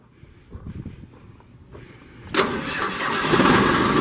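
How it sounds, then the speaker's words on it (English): The Perkins diesel engine on a 2006 Dynamic DC55 wood chipper cranks with a few uneven turns, then catches at about two and a half seconds and settles into a loud, steady, rough running roar. "There's your Perkins coming to life."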